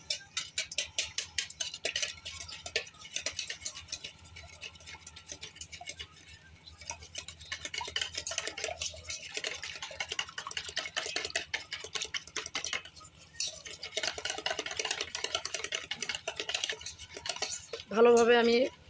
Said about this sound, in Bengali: ভালোভাবে আমি ডিমটাকে ফাটাই নিতেছি, যাতে ভিতরে কোনো লাম্পস না থাকে